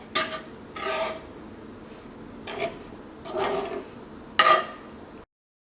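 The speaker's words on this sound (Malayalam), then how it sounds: "ഇങ്ങനെ ഇളക്കുമ്പോൾ ഇതേപോലെ ഇങ്ങനെ കടലപ്പൊടി ഇങ്ങനെ ഒന്ന് പരത്തി കൊടുക്കാൻ ഇടയ്ക്കിടയ്ക്ക്" A spoon scrapes and stirs gram flour (besan) in a pan while it roasts for ladoo, with five soft rasping strokes spaced apart, close and quiet, and no talking.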